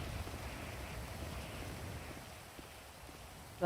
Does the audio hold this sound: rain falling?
yes